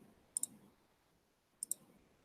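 A computer mouse clicking during software use: two quick double clicks spaced over a second apart, crisp and close in a quiet room.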